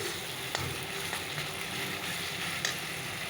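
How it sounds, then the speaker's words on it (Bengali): Spice paste frying in a pan for a bairali fish curry, a steady low sizzle with a few faint stirring clicks and no talking. "চলো মশলাটাকে একটু কষিয়ে নিই ভালো করে বৈরালি মাছটা রান্না করছি"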